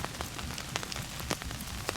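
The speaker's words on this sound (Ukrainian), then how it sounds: "Погода, бачите, дощ сьогодні цілий день." Rain falls steadily outdoors near the Lokhansky rapids, a soft constant patter with scattered closer drops ticking on surfaces, fairly faint and with no one speaking.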